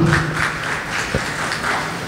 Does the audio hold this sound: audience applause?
yes